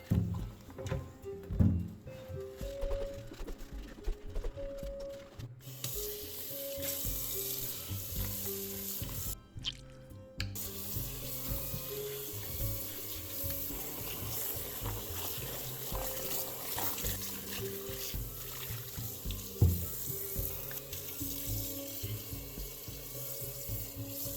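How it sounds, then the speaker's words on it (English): Tap water runs steadily into a kitchen sink for over twenty seconds as tomatillos are rinsed, a continuous splashing hiss with occasional knocks and clatters of the fruit and a brief pause midway. "I'm gonna give them a quick rinse."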